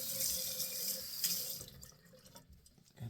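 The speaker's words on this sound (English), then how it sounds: "So now I'm gonna rinse off the alum" Tap water runs over an alum block at a sink, a steady close splashing rush that tapers off and fades after a couple of seconds.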